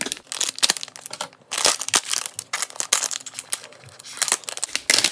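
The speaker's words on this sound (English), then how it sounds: "I guess I have to tear this apart somehow" Plastic bag of Lego parts being torn and wrestled open by hand, a loud close crinkling and crunching that comes in rapid irregular bursts with brief pauses.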